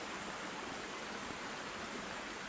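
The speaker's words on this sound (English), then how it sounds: "if I stand on the bridge, all you're going to hear is the water" Stream water flows under a bridge in old woodland, making a steady, unbroken broadband rush that stays close and fairly loud throughout, with no voices.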